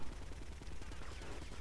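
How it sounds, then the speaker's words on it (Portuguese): Gunfire in the video game GTA Vice City during a rampage mission, a steady burst of rapid shots running the whole moment at moderate loudness with no talk. "Tá atirando no céu."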